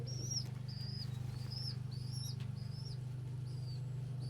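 A pigeon flaps its wings while landing on a hand indoors, with a brief burst of wingbeats at the start, followed by repeated high chirps from nearby birds over a steady low hum.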